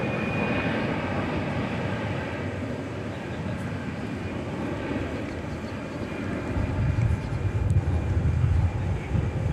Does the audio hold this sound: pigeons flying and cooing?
no